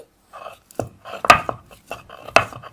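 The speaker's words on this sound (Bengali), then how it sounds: "এই ভর্তাটাই অনেকে আবার হামানদিস্তে করে নিতে পারেন ঠিক এরকম করে একটা একটা করে ছেঁচতে পারেন" Jackfruit seeds crushed one at a time with a mortar and pestle for a rustic village-style mash, sharp close knocks and grinding thuds in an irregular rhythm with brief pauses between strikes.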